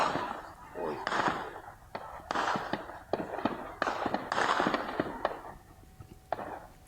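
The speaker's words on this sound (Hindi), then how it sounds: "तो आप गोलीबारी की आवाज साफ सुन सकते हैं," Bursts of gunfire from the Pakistani army firing on protesters in PoK, a rapid run of sharp cracks and bangs at varying distances, mixed with shouting crowd voices and commotion throughout.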